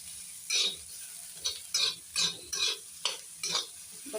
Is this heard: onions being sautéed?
yes